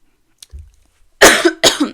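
Two loud, harsh coughs close to the mic, one right after the other, preceded by a faint breath and small rustle.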